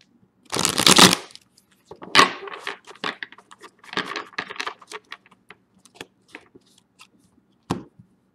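A deck of tarot cards is shuffled in several quick, crisp riffling bursts, the first loudest and longest, followed by lighter taps and flicks, close by with no talk.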